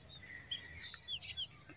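Bulbul birds call in an eggplant field covered with netting. Faint, distant chirps sound in short bursts over a quiet outdoor background.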